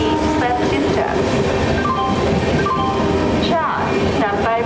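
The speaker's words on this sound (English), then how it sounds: "Through train will be passing from platform number 4." A through train runs past a railway platform at speed, a loud continuous rumble and rattle with clattering wheels filling the clip, while tonal horn or announcement sounds and voices rise above the din.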